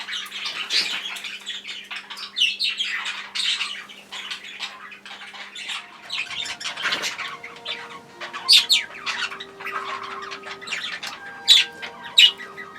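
Birds close by give harsh squawks and chirps in irregular bursts, with faint rustling and a low hum in the background.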